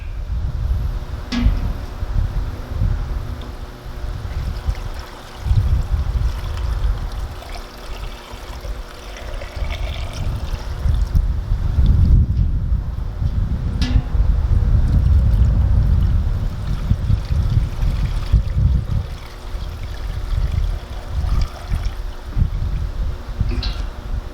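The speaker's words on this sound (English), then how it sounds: "Now we're just gotta fill the jars." Brine poured into pickle jars during pickle making: a steady watery pouring and trickling, fairly loud and close, swelling in the middle and continuing with no talk.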